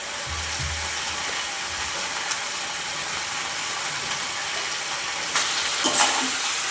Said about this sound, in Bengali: মাছের মাথাটা খুব ভালো করে এখানে আমি কেটে নিচ্ছি আর তেলের মধ্যে খুব ভালো করে ভেজে নেবো